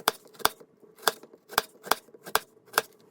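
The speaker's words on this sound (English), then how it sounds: "hold on to it firmly and slice down this way, but don't quite cut the edges off." A knife slices down through an onion on a chopping board, giving about eight sharp, evenly spaced taps, crisp and close with quiet pauses between cuts.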